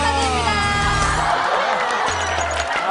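A studio audience on a Korean TV talk show cheers and applauds loudly, with whoops and shouted voices rising and falling over the steady wash of crowd noise.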